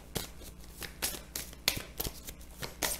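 Tarot cards being shuffled by hand, a quick series of soft riffling bursts at close range, quiet and alone without talk.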